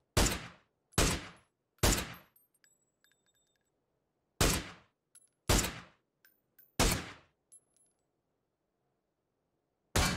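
Gunfire in a PUBG match: sharp isolated gunshots, three in quick succession, then a pause and four more in a spaced burst with a faint ringing tail, ending on one final shot, with no talk.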